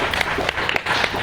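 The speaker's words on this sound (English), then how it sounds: "So claps to everyone who are studying and teaching here." An audience claps for Sanskrit students and teachers at a school gathering, a brief burst of scattered hand claps over crowd murmur.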